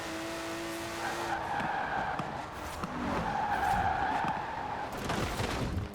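A twin-turbo classic Porsche in Forza Horizon 4 spins all four wheels, with tires squealing and skidding over a revving engine, loud and sustained for several seconds.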